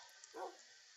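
A single faint dog bark from the video game Minecraft, short and isolated against a quiet background hiss.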